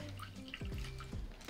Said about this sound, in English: So let's first start by pouring our water.